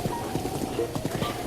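Horse hooves clip-clop steadily along a path in The Legend of Zelda: Breath of the Wild, a brisk even rhythm of close hoofbeats over ambient game sound.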